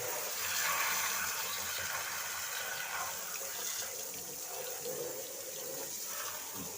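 Water runs steadily from a tap in a garage setting near an Opel Record being worked on, a continuous hissing splash that stays moderately quiet throughout, with no clear talking.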